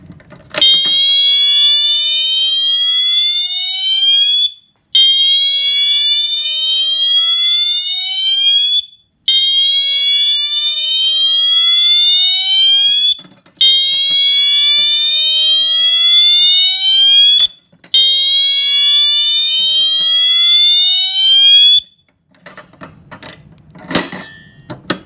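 A Wheelock MT fire alarm horn on a demonstration board, set off by a Simplex T-bar pull station, blares loud and close in long, steady repeating tones with short gaps, followed by brief clattering and rattling at the end.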